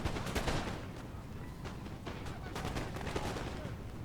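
Musket volleys in Napoleon: Total War, a dense, continuous crackle of distant massed gunfire with scattered sharper reports over a low battle rumble, fairly faint and with no talk.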